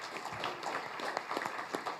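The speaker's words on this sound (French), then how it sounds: "je pense qu'il va falloir qu'on applaudisse les challenge owners" An audience at a hackathon awards ceremony breaks into applause, a moderately quiet burst of overlapping claps heard from a distance.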